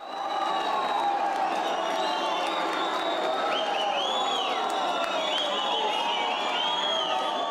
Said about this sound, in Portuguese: Renan Ribeiro abriu o placar e fez 1-0 o Boa Esporte para a alegria da torcida boveta.